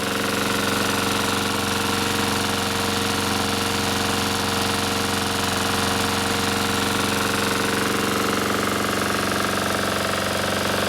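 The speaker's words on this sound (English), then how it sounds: "that is the Troy Bilt with a Honda engine. Sounds better and looks better" Troy-Bilt TB542 walk-behind lawn mower with a Honda GCV160 engine running steadily, a loud, continuous close-up engine drone with a rapid rhythmic chug that holds unchanged throughout.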